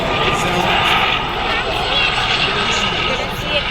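Gazelle helicopter running at an airshow, a steady loud broadband whine and rush from its turbine with voices talking over it throughout.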